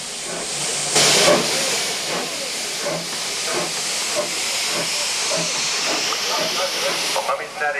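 A vintage steam train pulls into a heritage railway platform with continuous loud hissing steam throughout, a brief sharp burst near the start, and rhythmic chuffs beneath, while a voice talks over it.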